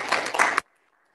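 Applause from a church congregation during a Sunday joint worship service, a short burst of clapping that stops abruptly after about half a second, followed by near silence.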